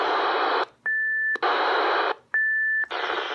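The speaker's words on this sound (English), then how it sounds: "Let's open the squelch." Motorola two-way radio with its squelch opened, giving loud bursts of broadband static that alternate with a steady steady beep tone, in a regular on-off pattern with no talk.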